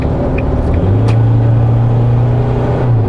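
A 4x4 pickup truck's turbocharged diesel engine, 190 PS and 450 Nm, rises from a low idle into a steady, strong accelerating drone with a deep rumble, close and loud with no talk.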